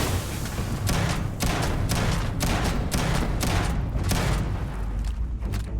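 Shotgun fire in the video game Starfield during a firefight, with repeated loud booming blasts in an uneven rapid rhythm over dense, continuous combat noise.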